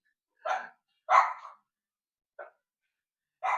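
A few short, sharp dog barks ring out with pauses between them, four bursts in all, fairly close against an otherwise silent background.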